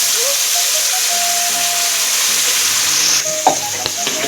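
A garlic, ginger, chilli, tomato and onion paste hisses and sizzles in hot tempering oil, a loud steady frying roar throughout, with a brief clatter and stir near the end.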